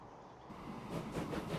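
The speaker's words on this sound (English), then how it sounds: "And here comes the next train." A train arrives in a video game that hauls iron ore, its low rumble swelling after a quiet start and holding steady with a soft rolling hiss.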